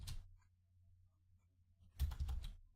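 Java code being typed on a computer keyboard: one brief keystroke burst at the start, a pause, then a quick cluster of several close, crisp key clicks.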